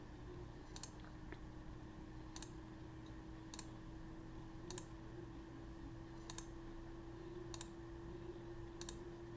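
Computer mouse clicks while modelling in CAD, soft, sparse clicks at roughly even gaps of a second or more, faint and close over a low steady hum, with no talking.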